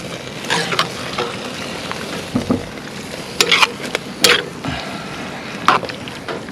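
Macaroni and cheese for pizza mac and cheese is stirred in a pot, with wet, squelching mixing and a few sharp spoon clinks against the side, heard up close.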